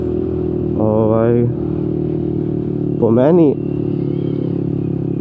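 A Kymco Quannon 125 motorcycle running without its exhaust muffler gives a steady, close, low idle drone throughout, while someone talks over it in two short bursts.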